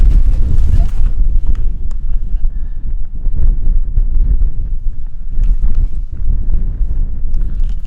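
Strong wind buffets the microphone on an exposed Dartmoor hilltop at Cosdon Beacon in February, a loud steady low roar with gusty swells throughout.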